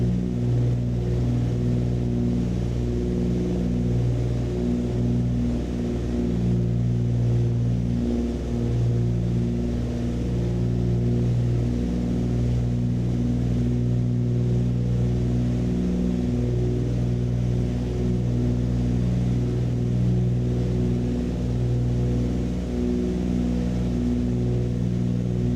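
Twin piston engines of a Cessna 414 at climb power, 2450 RPM and 31.5 inches, in a flight simulator: a steady, loud, droning hum with layered harmonics, continuous and unbroken throughout.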